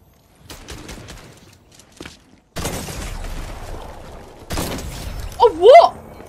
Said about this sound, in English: My shotgun does no damage. I just shot him.